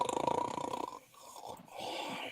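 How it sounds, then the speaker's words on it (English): Someone snoring nearby, a low buzzing rasp for about a second, fairly quiet, followed by softer breathy noise. "I'm pretty sure I heard a snore."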